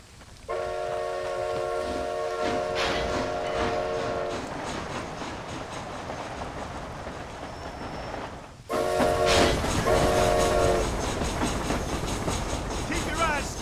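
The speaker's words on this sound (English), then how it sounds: "This train headed for Mexico?" A train in the video game Red Dead Redemption: Undead Nightmare rolls past with steady rumbling and clattering wheels and repeated loud horn blasts, the sound continuous and close, briefly cutting out partway through.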